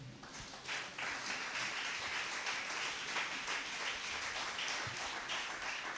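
A church congregation claps together during worship, a steady, moderately distant wash of applause that holds evenly without voices.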